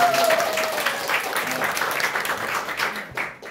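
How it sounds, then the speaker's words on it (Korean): Applause from a seminar audience celebrating a member's promotion to Platinum rank, a dense, steady wash of many hands clapping at moderate volume, with a faint voice mixed in and tapering off near the end. "이 PT 된 것을 큰 박수 축하합니다"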